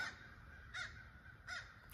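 Three harsh caws from a blackbird, evenly spaced and moderately distant, over quiet outdoor background.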